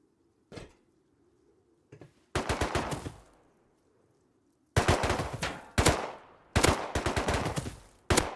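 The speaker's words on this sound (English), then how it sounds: "They're shooting us now" Bursts of automatic gunfire aimed at players in Rust, several rapid rattling volleys separated by short silences, loud and close, with a few single shots before them.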